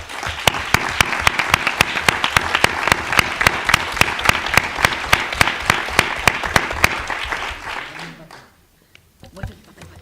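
Applause from a conference audience honouring Radio Sol, a pro-LGBTIQ radio station broadcasting from Tunisia, with sharp rhythmic claps in unison for about eight seconds before dying away into near silence and a stray sound.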